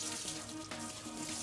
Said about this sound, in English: So what I'm going to do now is just rinse off the dust and the starch.